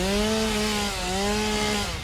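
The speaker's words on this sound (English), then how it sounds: "It's making chug chug chug chainsaw noises now." A chainsaw in the video game Satisfactory cuts down a tree, its steady droning whine holding for about two seconds with a slight wobble in pitch, loud and close.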